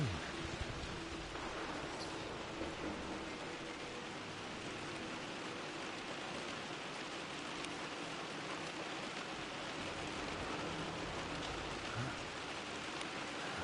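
Rain falls steadily in Rise of the Tomb Raider at Croft Manor, a soft, even hiss of drops throughout, fairly quiet and without speech.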